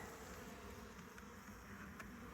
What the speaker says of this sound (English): So we've got bees from here to here.